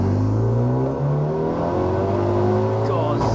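A 340 bhp turbocharged, fully forged Renault Megane RS250 Cup engine revs loudly and climbs in pitch as it accelerates, a strong continuous roar throughout.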